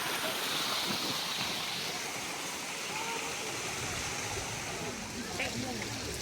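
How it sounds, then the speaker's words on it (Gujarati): Water from a stream runs steadily at a zoo, a continuous broadband rush with faint distant voices in the background. "ઝરણું બહુ ફાઇન જાય છે એ વચ્ચે,"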